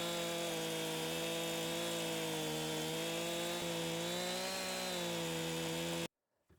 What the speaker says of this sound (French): Et là, on va en manger un peu avec la tronçonneuse.